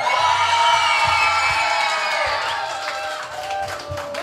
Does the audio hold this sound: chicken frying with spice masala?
no